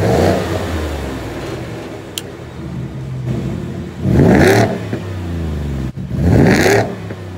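A supercharged 2020 Ford F-150 King Ranch pickup with a Roush TVS 2650 supercharger and Roush active catback exhaust idles with a deep rumble, then revs loudly twice in strong, rising bursts, alone without talk.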